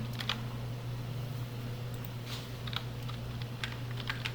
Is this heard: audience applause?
no